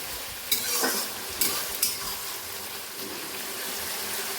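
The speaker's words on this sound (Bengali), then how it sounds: "ক্যাপসিকামটা ভাজা হয়ে গেছে তো তারপরে এর মধ্যে আমি কেটে রাখা পেঁয়াজগুলো তার সাথে আদা কুচি রসুন কুচি আর দুটো কাঁচা লঙ্কা দিয়ে দিলাম" Chopped onion, ginger, garlic and green chillies sizzle in a pan with fried capsicum, a steady hiss broken by three sharp spoon-scraping stirs early on.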